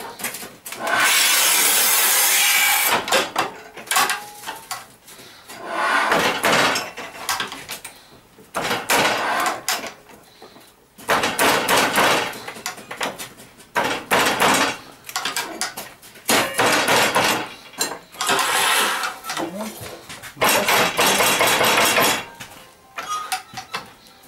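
A Battipav PROFI EVO ALU manual tile cutter scores and snaps hard enamel tile, giving repeated loud scraping strokes in bursts separated by short pauses, with no talking.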